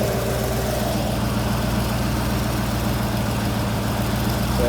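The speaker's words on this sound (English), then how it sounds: "Now the compressor's running." A Ford Ranger with a DIY twin-turbo 351W V8 idles steadily with its R134a A/C compressor running, giving a constant, close, low engine drone with a faint higher whine and no voices.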